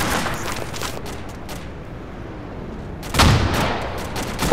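Gunfire in the military shooter Arma 2 during an infantry push toward a tree line: scattered rifle shots crack near and far, a quieter stretch of distant fire, then a louder burst of close shooting.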